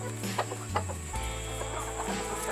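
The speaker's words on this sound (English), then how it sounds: "We want to see if he crows after or before, and what he's going to do with his hens" Rooster and hens on a farm in Tennessee, scattered soft clucks over a steady low hum, fairly close with no talking.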